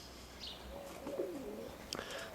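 Roller pigeons coo softly in a breeding box, a few faint low warbling calls with a brief chirp, heard close but quiet.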